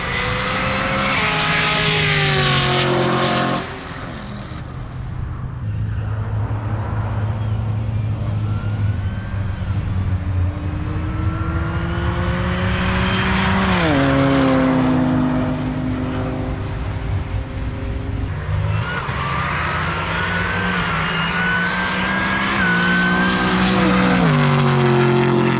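Two Nissan GT-R R35 cars race down a drag strip, engines roaring loud and close as they rev through rising gear pulls with shifts between them.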